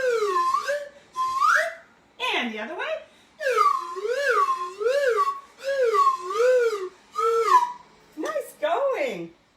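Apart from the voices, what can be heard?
whistle being blown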